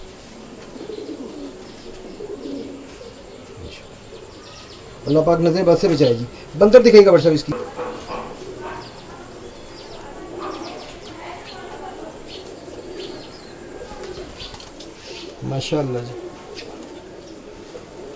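Rampuri pigeons give a few soft, throaty coos that swell in two short bursts and a faint later one, while someone talks nearby throughout.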